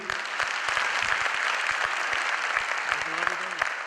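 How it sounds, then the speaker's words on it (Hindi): A crowd at a business opportunity meeting gives a presenter strong applause, sustained even clapping across the whole stretch, with a voice briefly rising near the end. "जबरदस्त तालियां एक बार कपिल सर के लिए"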